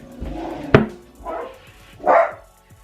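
A dog barking at passers-by indoors: one sharp, loud bark followed by two softer, drawn-out barks or yips, close to the microphone, with quiet pauses between.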